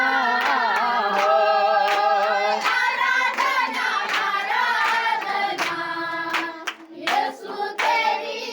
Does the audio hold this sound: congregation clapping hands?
yes